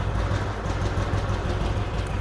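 Restored vintage Royal Enfield motorcycle engine running while ridden, a steady low thumping pulse with a constant mechanical clatter, close and continuous, with no voices.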